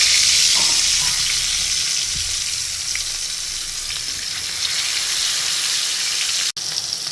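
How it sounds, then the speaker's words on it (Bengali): Hilsa fish pieces rubbed with turmeric, chili and salt fry in hot oil, giving a loud, continuous sizzle and crackle that holds steady throughout, with one brief dip near the end and no talking. "এই যে আমি তেলে দিয়ে দিচ্ছি মাছটা।"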